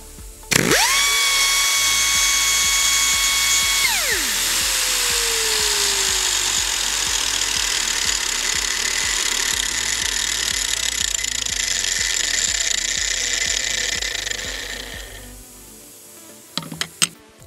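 A Chicago Pneumatic CP3650 industrial grinder and a competing electric grinder run loudly together, one whining tone cutting off quickly around four seconds while a broad grinding roar continues and winds down near fifteen seconds, followed by a few clicks.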